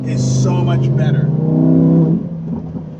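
A Lamborghini Huracán engine revs hard with a deep, rising exhaust note, then drops off sharply with a few sputtering crackles as the throttle lifts, loud and close, with voices over the engine.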